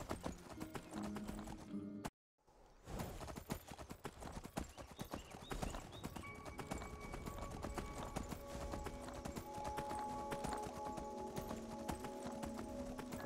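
Horse hooves clip-clop at a steady gallop in Skyrim, close and continuous apart from a brief drop-out, with a faint whinny.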